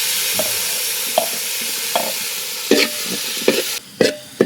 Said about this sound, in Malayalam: അപ്പോൾ ഇതിലേക്ക് നമ്മുടെ അരിഞ്ഞു വെച്ച തക്കാളി ഇട്ട് കൊടുക്കുക.